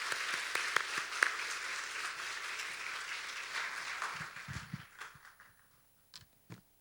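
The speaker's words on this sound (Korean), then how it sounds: "나오실 때 큰 박수로 환영하며 맞이하겠습니다." Enthusiastic applause in a church youth worship service welcoming a pastor to the stage, loud, dense clapping that holds steady, then thins and fades to a few scattered claps and quiet shuffling.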